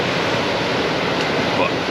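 Large sea waves breaking on a beach at Paguera, Mallorca, in late February, a steady loud roar of surf and wind that fills the whole stretch without pause.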